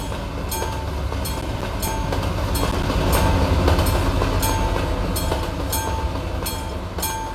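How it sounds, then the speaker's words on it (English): A loud train rolls past in the Euro Truck Simulator 2 game, a continuous heavy rumble with repeated clickety-clack wheel beats that swells toward the middle and stays close throughout. "It's a loud train."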